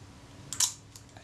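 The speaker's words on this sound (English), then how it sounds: "just try my shutter release." A Kodak Retina IIIC camera's shutter release fires once as a short, sharp mechanical click after a faint movement of the film advance lever, alone in a quiet room.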